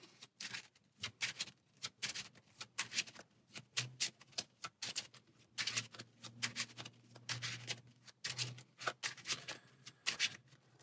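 Playing cards shuffled repeatedly, crisp riffling bursts in quick succession, close up with brief pauses between.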